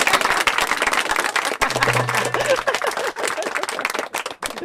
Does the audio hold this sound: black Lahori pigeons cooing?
no